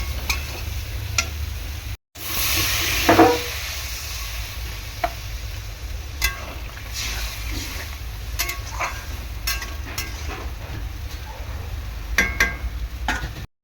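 Potatoes cooking in oil sizzle and spit loudly as water is poured in, followed by ongoing frying crackle with scattered sharp pops and occasional stirring clinks, no voices.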